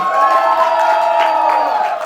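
A large wedding crowd cheers and whoops loudly and continuously, with a lively roar of voices and some clapping mixed in.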